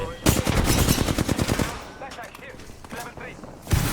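Rapid bursts of gunfire from an Apex Legends match, loud and dense for the first second and a half, then lighter scattered shots with game effects and a final loud burst at the end.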